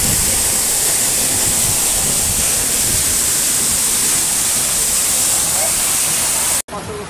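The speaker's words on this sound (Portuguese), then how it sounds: "Tá sendo água com força." Heavy rain pours down in Crateús, Ceará, as a dense, loud, unbroken roar of water that fills the whole scene, cutting off abruptly near the end.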